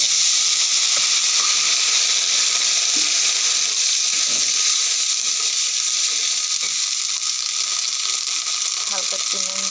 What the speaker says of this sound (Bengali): এই যে কড়াইশুঁটিগুলো এবার আমি একটু কড়াইতে ভেজে নেব